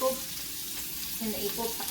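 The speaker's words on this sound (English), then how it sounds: "we are in the process of searing the meat" Rouladen meat rolls searing in olive oil give a soft, continuous sizzle and crackle, fairly quiet and steady with no talking.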